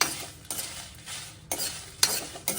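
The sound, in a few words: dried red chillies roasting on low flame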